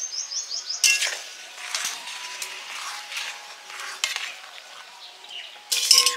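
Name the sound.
lid being put on cooking pot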